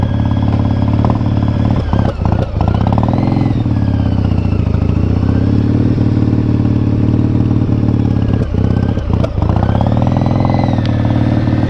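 A motorcycle engine with an intermittent starter runs steadily after firing up on a hot day, a loud close idle with mechanical clatter and a few short sharp knocks over the drone.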